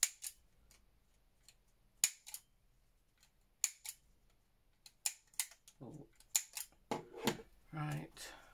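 Scissors snip through paper while making junk journal pockets, a run of sharp, close cuts spaced irregularly and growing busier toward the end, with a person talking quietly in between.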